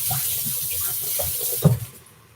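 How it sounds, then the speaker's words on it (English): Running tap water rinsing cherry tomatoes in a colander at a sink, a steady close splash that briefly surges near the end, then fades. "just putting them in my colander and give them just a quick rinse"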